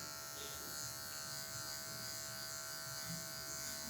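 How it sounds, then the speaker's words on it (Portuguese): Electric hair clipper buzzing steadily while its tip trims hair during a mid fade haircut, a close, constant motor hum with a faint rasp and no voices. "Vou usando a pontinha da máquina aqui para tirar as partes mais escuras"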